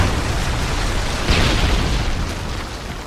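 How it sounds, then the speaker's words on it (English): A Predator missile explosion in Modern Warfare 3, heard as a loud, dense, sustained roaring blast with a brief swell partway through, filling the whole stretch with no voices. "Friendly Predator missile inbound."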